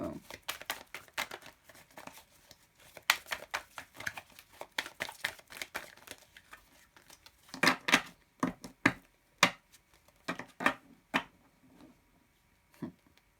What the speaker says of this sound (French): je vais bien mélanger mon tarot d'abord